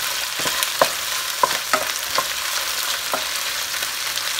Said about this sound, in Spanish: vamos a freír esto bien, que esté bien frito